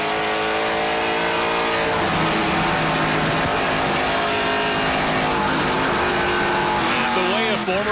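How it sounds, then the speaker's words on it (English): A NASCAR Pinty's Series stock car's engine roars at high revs from the onboard position at Canadian Tire Motorsport Park, steady and loud throughout with pitch shifting through gears and corners, while a commentator talks over it. "Let's ride on board with Jason"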